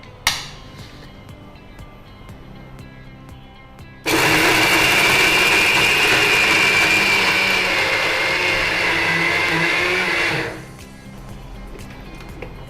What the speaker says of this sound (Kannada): ಇದನ್ನು ಈಗ ಮಿಕ್ಸಿಂಗ್ ಮಾಡಿಕೊಳ್ಬೇಕಲ್ಲ?